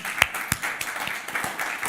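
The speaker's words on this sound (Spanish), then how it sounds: "Démosle un aplauso al Señor por eso." A church congregation applauds the Lord during a Sunday service, scattered sharp claps at moderate level rather than a dense roar.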